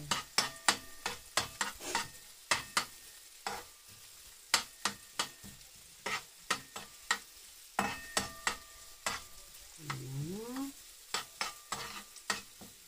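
Onions and garlic cooking in butter in a pan, with repeated sharp scraping and stirring strokes over a faint steady sizzle, close and fairly loud, with no talking.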